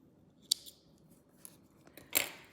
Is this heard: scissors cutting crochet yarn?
yes